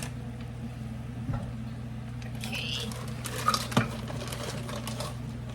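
A bowl is taken out in a kitchen during dinner cooking, giving a few brief ceramic clinks and knocks at close range over a steady low hum.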